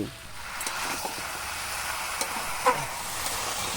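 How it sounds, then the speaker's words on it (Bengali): Ground spice paste with pumpkin and malabar spinach is sautéed in a pan, giving a steady background sizzle and hiss. A few soft stirring clicks and one brief louder scrape break through it. "এবার বেটে রাখা মশলাটা দিয়ে কষে নিচ্ছি"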